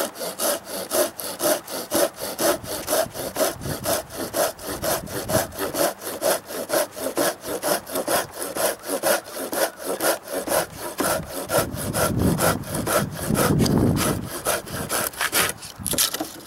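Felco or Tashiro hand saw cutting scrap wood, a close, rhythmic rasp of repeated push-pull strokes, steady and fairly loud, with the strokes quickening and growing heavier toward the end.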